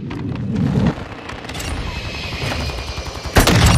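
Heavy gunfire in Call of Duty: Modern Warfare 2 crackles in dense, rapid automatic bursts, loud and close, with a booming burst at the start and another near the end.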